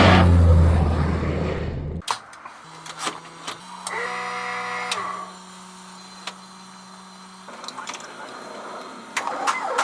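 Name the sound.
Cessna 182Q light airplane engine running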